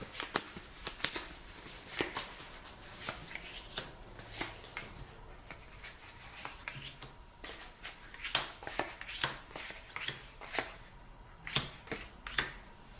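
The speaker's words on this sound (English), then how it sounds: "So let's shuffle first." Crisp, rapid riffling of a deck of cards being shuffled for the board game Descent 2nd Edition, repeated in bursts of sharp clicks and flutters, close up with no voices.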